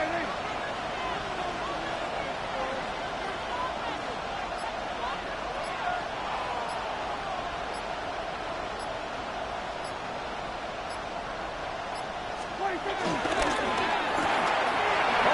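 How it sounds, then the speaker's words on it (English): Football stadium crowd cheering and roaring through a tense third-and-goal, a steady broad wash of noise that swells near the end, under continuous commentary. "This crowd doing all they can."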